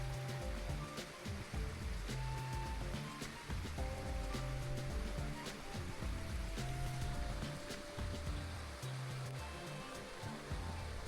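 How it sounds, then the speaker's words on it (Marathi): A small waterfall runs beside the stone ramparts of Visapur fort, a steady rushing wash of water, fairly faint and continuous, with some low rumble and scattered background noise. "इथे एक नॉर्मलचा धबधबा पण वाहतोय"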